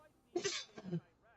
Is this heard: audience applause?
no